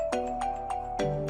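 A phone ringtone plays a short, bright repeating melodic pattern of tones, clear and close with no voices over it.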